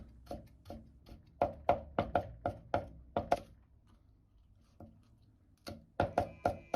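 A kitchen knife cuts ginger slices into thin strips on a chopping board, giving quick, evenly spaced, crisp taps in close, dry bursts with a short pause midway.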